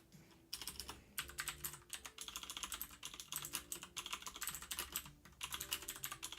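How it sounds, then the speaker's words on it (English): Rapid, uneven bursts of typing on a computer keyboard, close and crisp, with short pauses between runs of keystrokes and no talking. "Typing like a champ today."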